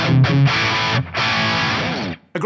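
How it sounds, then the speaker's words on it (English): Crunchy Marshall-style overdriven electric guitar through a Fractal Brit 800 amp model with light studio reverb, played as loud sustained chords with a short gap midway before ringing out and stopping. "A great way to start with a crunchy Marshall style tone."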